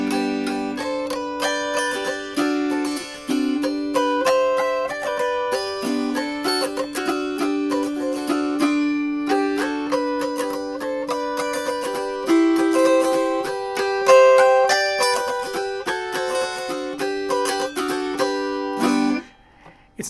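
Autoharp flatpicked with an ordinary Dunlop flat pick, playing a continuous strummed melody of bright, ringing plucked-string chords for about twenty seconds with no talking, ending in a final sustained chord.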